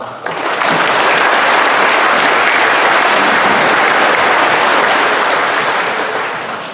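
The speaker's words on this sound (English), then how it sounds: "A round of applause for all of them." A large audience in a high school gym applauding at a graduation ceremony, a loud, dense wash of clapping that swells quickly and holds steady before tapering slightly at the end.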